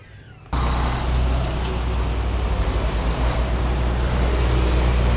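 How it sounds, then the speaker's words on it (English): Heavy roadside traffic: a loud truck passing on the road close behind, a sudden strong engine roar and rumble that starts abruptly and holds steady, with no clear talk over it. "It's a f***ing loud truck behind me."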